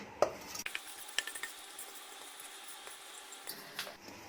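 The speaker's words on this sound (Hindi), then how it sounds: "इसको लगातार स्टर करेंगे जब तक ये चीनी पूरी तरह से पिघल नहीं जाती" A raw mango and sugar mixture is stirred in a kadhai over medium heat, with soft scraping and a few sharp spoon clinks against the metal, quiet and close, without talking.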